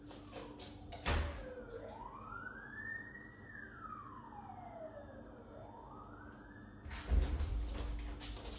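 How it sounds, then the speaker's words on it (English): A wailing siren rises and falls in long slow sweeps, steady and moderately loud, with brief thumps at the start and end. "my guess is it's an ambulance"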